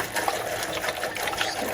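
Spring water poured over about seven pounds of pickling cucumbers in a container to soak, a close, continuous trickling and splashing stream with small gurgles.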